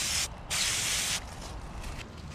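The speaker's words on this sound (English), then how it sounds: "Spray a little primer over here." Primer sprayed from an aerosol can onto a rusted boat trailer, two loud hissing bursts of about a quarter second and seven tenths of a second, then fainter short puffs close by.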